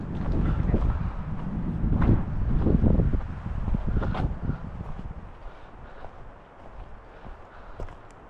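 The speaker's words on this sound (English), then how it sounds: "today was a very windy day all over town" Heavy wind buffets the microphone on a hiking trail at Big Bear Lake, California, in a continuous low roar, gusting stronger at first and then easing slightly, with occasional faint knocks.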